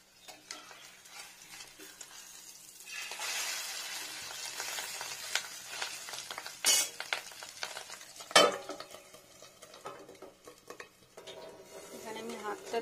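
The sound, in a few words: frying fish roe in a pan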